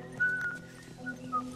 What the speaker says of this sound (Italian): Chi è che fischia?